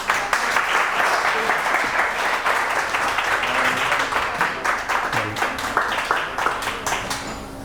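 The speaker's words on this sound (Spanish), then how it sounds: "y nada, pues un aplauso." An audience at a university science talk on hydrogen and CO₂ gives steady, sustained applause throughout, close and even, fading slightly toward the end with no talking over it.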